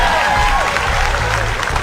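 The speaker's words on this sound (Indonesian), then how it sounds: "Tepuk tangan untuk Tabina." Applause for a contestant at a school quiz competition, a short burst of crowd clapping heard close up.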